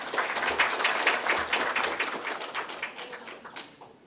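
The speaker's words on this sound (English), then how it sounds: "So a big round of applause and thank you to them." Audience applause at a survey report launch event, a dense, steady patter of many hands clapping that carries on for several seconds and then slowly thins and fades near the end.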